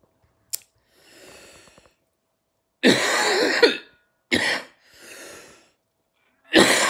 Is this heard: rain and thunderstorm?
no